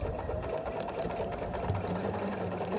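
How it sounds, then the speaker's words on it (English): A sewing machine runs continuously as it stitches quilt block pieces together, giving a close, even mechanical whir with a rapid needle rhythm and no speech. "And let's stitch here then."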